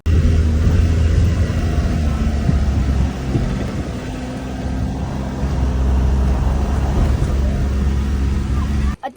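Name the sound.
Maruti Alto car engine climbing uphill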